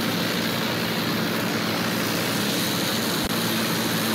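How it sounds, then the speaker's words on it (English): An enemy propeller plane in Battlefield 1 drones loudly and continuously overhead as it flies past, its engine roar filling the scene without pause. "Enemy plane! Watch it!"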